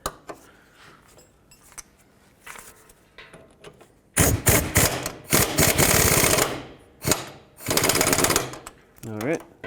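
A power tool snugs up the sway bar nut on the rear strut of a 2002-06 Toyota Camry in loud, rattling impact bursts of a second or two each, separated by pauses. A quieter tool sound comes first.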